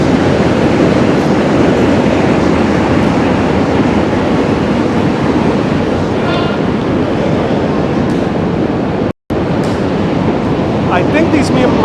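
New York subway N, D, Q and B trains passing through, a loud continuous rail roar with faint squeals, broken by one brief dropout, with speech mixed in beneath.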